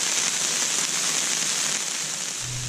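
Steady winter rain pattering on a camping tent, at times icy, a dense, close hiss of drops with a soft crackly texture that holds evenly throughout.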